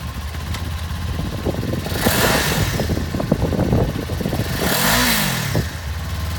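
A used 2018 Kawasaki Ninja 400 sport motorcycle engine revs up and falls back in steady waves, loud and close, with no talk over it.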